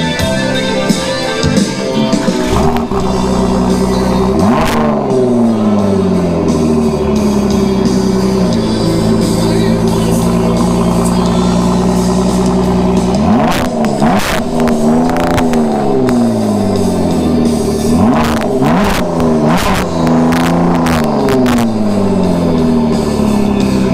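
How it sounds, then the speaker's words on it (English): A 2017 Ford GT engine cold-starts and idles loudly and close by, with several sharp rising revs that sweep up and drop back. There is no talking. "we're going to do a cold start on this 2017 Ford GT"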